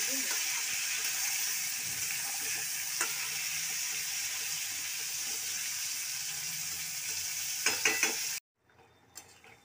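Shrimp curry with potato and pointed gourd sizzles steadily in a pan while a spoon stirs it, scraping and clicking now and then, before the sizzle cuts off abruptly near the end.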